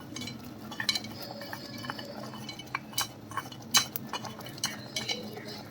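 Fried paneer cubes going into a pot of masala gravy for paneer butter masala, with a spoon clinking and scraping against the pot in scattered light taps over a faint background hum.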